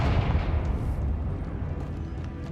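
A Confringo fire spell blasts in Hogwarts Legacy, a deep rumbling burst that rolls and fades over a couple of seconds.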